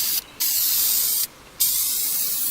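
Spray paint hisses onto a wreath being coated red in two steady bursts, each broken by a short pause, close and loud with no voices.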